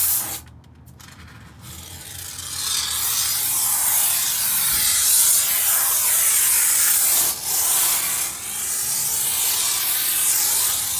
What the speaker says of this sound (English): Alright, now we're placing the foam for our cork.